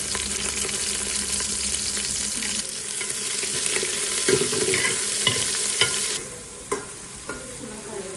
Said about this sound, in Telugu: ఉల్లిపాయలు ఎర్రగా వేగాలండి అప్పుడు రసం మంచి టేస్ట్ వస్తుందంట